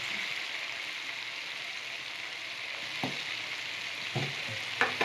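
Capsicum masala curry simmering in a pan on medium heat, giving a steady close sizzle and hiss with a few sharp clicks of a utensil near the end; no voices.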